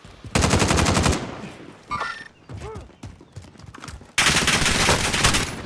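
Rapid machine gun fire from the Call of Duty: Modern Warfare video game, two loud sustained bursts at the start and end with quieter battlefield sounds and clanks between them.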